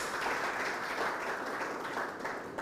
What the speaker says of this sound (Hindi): तो देखिए जोरदार तालियों के साथ अपना भी स्वागत कीजिए।